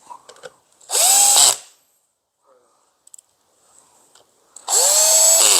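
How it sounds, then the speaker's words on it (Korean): Power drill driving bolts into the back of a golf auto tee-up machine, two short whirring bursts of about half a second each separated by quiet with faint clicks and handling. "자 뒷면에도 볼트를 두 개를 체결을 해 주시고요"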